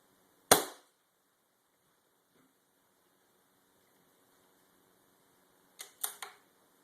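A CO2 airgun fires through a shooting chrony: one sharp, loud crack near the start, then quiet, then a quick cluster of three fainter snaps near the end.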